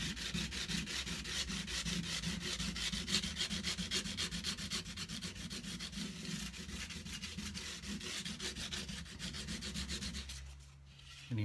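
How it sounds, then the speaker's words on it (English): Guitar fret ends on a cigar box guitar being polished, a continuous close rapid back-and-forth rubbing with a fast regular rhythm for about ten seconds before it stops. "And then I just look for a nice polish on the fret ends."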